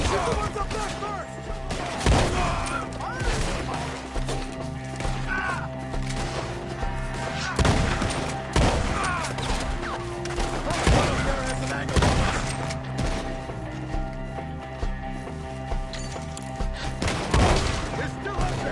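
A Red Dead Redemption 2 shootout rings with repeated gunshots, sharp cracks scattered irregularly through the scene against a busy game soundscape, with shouted voices in between.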